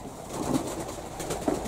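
A pigeon coos softly at a dovecote, with a few low, muffled coos over faint background ambience.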